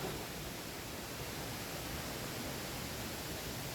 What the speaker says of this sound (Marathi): तुम्हाला आवाज ऐकू शकता की एक एवढा मोठा धबधबा असेल आवाज ऐकायला येतोय ना